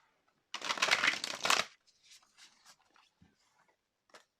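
Moonology oracle cards are shuffled in a quick, dense riffling burst up close, then a few lighter card taps and slides follow, with one last brief flick near the end.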